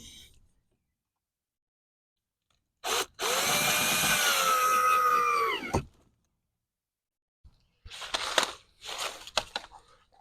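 A cordless power drill drives screws into a front splitter being installed on a 2016 Tesla Model S, one sustained whirring run of about three seconds, followed later by short clicks and handling noises.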